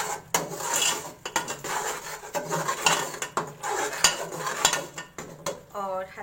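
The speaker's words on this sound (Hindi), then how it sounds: "थोड़ा सा इसको मैं भून लूँगी।" Spices roasting in a pan as a utensil stirs them, giving steady close scraping and clattering strokes in an irregular rhythm, moderately loud, with a brief tonal sound near the end.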